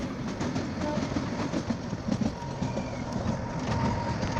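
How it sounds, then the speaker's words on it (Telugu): The Kalka–Shimla toy train runs on its narrow-gauge rails, a steady loud rumble with rhythmic clickety-clack of wheels over rail joints, heard up close and continuous throughout. "ఇదిగా ఇది టాయ్ ట్రైన్, ఇది అప్ టు కాల్కా వరకు."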